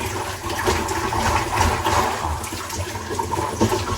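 Water pours from a shower head over freshly harvested vegetables such as cabbage, a steady broadband rushing splash at close range with no speech over it.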